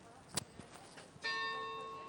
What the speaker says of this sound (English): look, you've got the bells of the Institut de France.